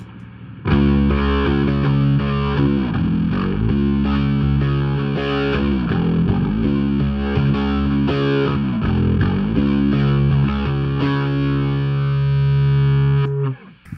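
Distorted rock bass guitar playing octave lines through a verse, thick sustained notes repeating in a steady pattern with effects, loud and close with no voices.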